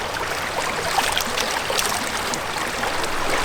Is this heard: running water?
yes